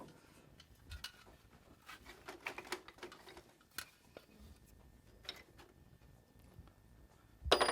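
A hammer beating a welded copper mask, sparse irregular metallic taps at close range with quiet gaps between strikes.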